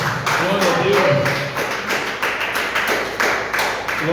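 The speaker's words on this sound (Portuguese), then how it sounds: "Palmas para Jesus, irmãos." A church congregation at a São João service claps for Jesus in a loose, rhythmic beat, with voices and singing mixed in over the clapping.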